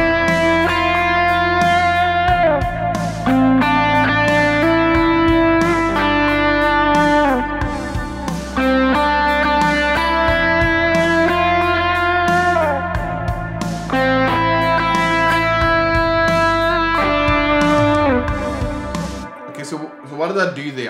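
An electric guitar plays triads in a worship style, adding non-chord tones over them. Clean sustained chords ring with an effects sheen, changing every couple of seconds, loud and alone, before fading out at the end.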